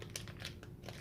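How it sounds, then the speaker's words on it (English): A vintage Pokemon booster pack wrapper being worked open, giving close, quiet bursts of crinkling foil and plastic in quick uneven handling sounds. "I'm trying to open it without messing the entire pack up."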